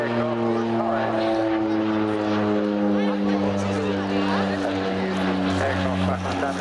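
A twin-turboprop Rockwell OV-10B Bronco flies over the Air Waves Portrush 2016 air show, giving a steady droning hum with strong propeller tones. A commentator talks throughout over the engines.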